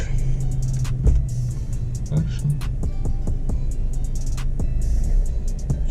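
A BMW E46 car engine idles and revs in a rumbling, throbbing drone, with brief clicks and knocks over the steady motor noise.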